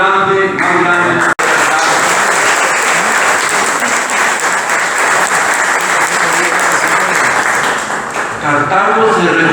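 Loud, sustained audience applause filling a hall at a tribute event, steady and dense from start to finish with only a brief dip near the end.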